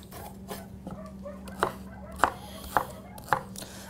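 Mango being sliced on a cutting board, four or five crisp knife taps spaced about half a second apart, close and fairly quiet over a low background hum.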